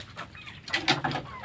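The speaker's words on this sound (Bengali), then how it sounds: "এই যে আমাদের রান্নাঘর, মুরগি টুরগি সব এই জায়গায়।" Chickens clucking in a flood-hit household kitchen area, a few short, fairly faint calls in a quiet room with no talking.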